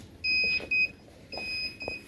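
Short electronic beeps from a Raspberry Pi home alarm in a quick broken pattern, two bursts then a longer tone with another brief one, fairly quiet against a soft background.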